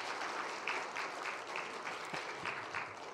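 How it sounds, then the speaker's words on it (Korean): A church congregation applauds during a Sunday service, a steady, moderately distant patter of many hands with a few sharper claps standing out. "한번 격려의 박수를 한번 부탁하겠습니다."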